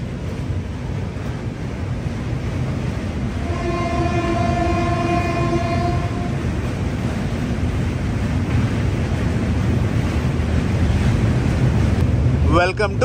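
A train crosses the Ganga river bridge on the approach to Kashi station in Varanasi, giving a steady, loud rumble of rail cars with wind noise and a brief tonal horn-like hum in the middle.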